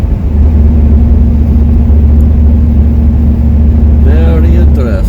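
Inside a Camaro with a 305 V8 cruising at 55 mph, the engine gives a loud, steady low rumble and road drone, and a voice comes in briefly over it near the end.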